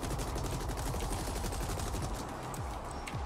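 Rapid gunfire rattles on in The Ascent, dense overlapping bursts of automatic shots forming a loud, continuous fusillade with no speech.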